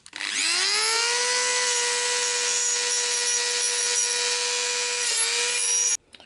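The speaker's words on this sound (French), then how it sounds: "je mets un disque à meuler, oui, au bout de ça" A grinding disc on a power tool rounds off metal, a loud, close, continuous high-pitched whine and scraping hiss that spins up quickly, holds steady for about five seconds, dips briefly, then cuts off.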